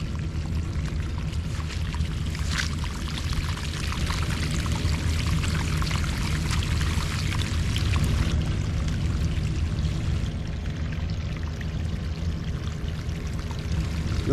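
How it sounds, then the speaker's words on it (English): Groundwater pours steadily from a French drain pipe, a continuous splashing rush that holds at the same level throughout. "Look how much water we have coming out from the French drain."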